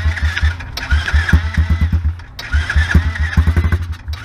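A motorcycle engine turning over by kick or starter, with two bursts of rapid rhythmic chugging pulses that stutter and fade without catching, loud and close, on a bike during a road trip stop.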